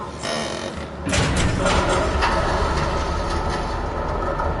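A video game train on a PS4, a steady rumbling rail roar that jumps louder after about a second and continues with faint clattering mechanical detail.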